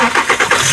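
A 2.5-liter five-cylinder engine in a VW Golf Mk VI cranks and catches, a short, loud, close burst of pulsing engine noise.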